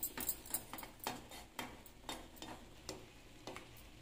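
Cocoa powder being stirred into melted soap base, a scraping, ticking series of utensil strokes against the pot at an irregular pace, close and fairly quiet with no voices.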